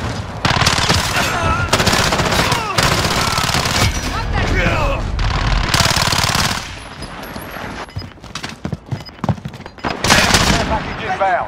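Rapid automatic gunfire in a Call of Duty: Modern Warfare Hardpoint match, loud sustained bursts with short pauses between them and voices mixed in.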